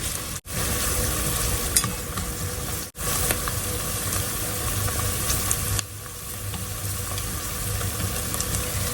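Onions and garlic sautéing in a pot over medium-high heat, a steady soft sizzle with faint stirring clicks, briefly interrupted twice near the start and dropping slightly in level partway through.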